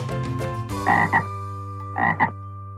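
Two loud, rasping frog croaks, each a short double burst about a second apart, over a steady low hum.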